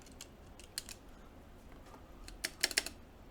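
Keys pressed on a mechanical keyboard during a Zealio 60% kit build, scattered sharp clicks in short irregular bursts, close and fairly quiet, with no talk.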